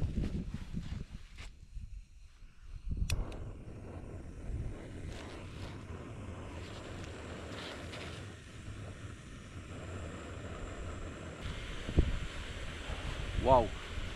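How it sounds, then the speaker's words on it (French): Light wind of about 10 km/h blows at an outdoor bivouac camp, a steady low rumble of gusts and mic buffeting running throughout with a few brief knocks and a short chirp near the end, under occasional faint speech. "il y a un petit vent de 10 km/h"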